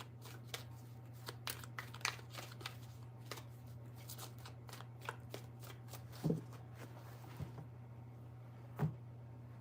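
Tarot cards are shuffled by hand in a quiet room as a run of soft, quick riffling snaps, with a few louder taps near the end over a steady low hum and no talk.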